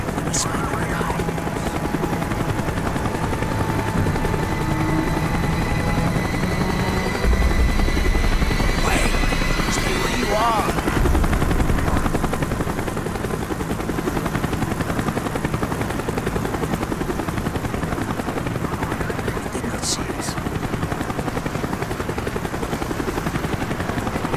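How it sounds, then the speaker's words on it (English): Helicopter in the video game Call of Duty Black Ops circling overhead, a steady loud rotor drone throughout with a brief heavier thump midway and faint distant bursts of gunfire. "The chopper is coming around again."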